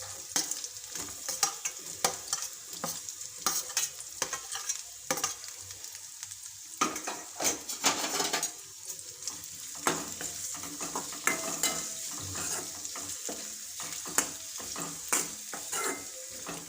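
Chopped green garlic and onion sauté in hot oil for schezwan fried rice, giving a steady crackling sizzle with repeated scraping stirs throughout, close and fairly loud with no talk.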